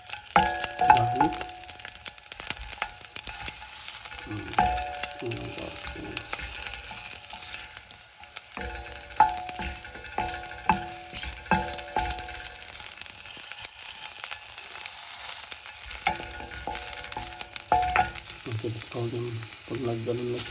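Garlic sautés in a pan for chicken soup, a continuous crackling sizzle with intermittent stirring clatter throughout.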